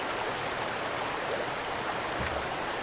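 In the survival game Sons of the Forest, a waterfall's rushing water pours steadily as a soft, continuous broadband hiss with faint low rumbles and no talking.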